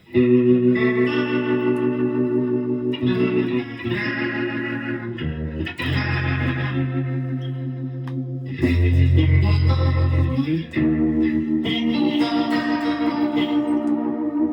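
Electric guitar played through an Electro Harmonix Lester G rotary pedal, swirling chorus-like warble on sustained chords and riffs, steady and fairly loud throughout with no talking.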